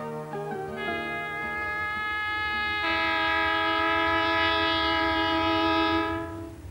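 Horn of the Prospector passenger train on the Perth to Kalgoorlie line in Western Australia, sounding as a sustained multi-tone chord that swells louder partway through and holds for several seconds before cutting off, over a low rumble.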